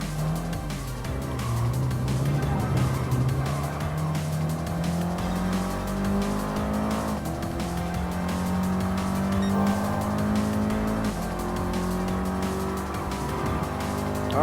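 Race cars roar through a custom race in Gran Turismo Sport, with a BMW M4 chasing the leading KTM X-Bow. The engine drone stays loud and steady throughout, pitch rising gradually with acceleration and some tire squeal.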